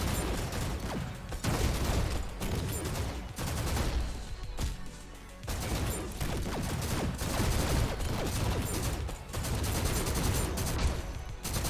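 Assault rifle firing in the shooter game GTTOD: dense, loud bursts of rapid automatic fire with short pauses between volleys, close and continuous over about twelve seconds.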